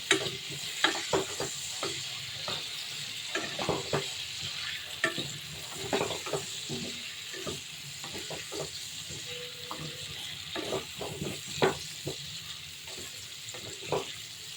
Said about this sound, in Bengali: নতুন আলুগুলোকে ভালো করে ভেজে নেব।